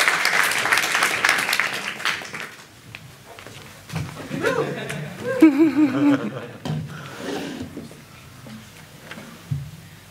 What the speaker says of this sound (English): I want a big applause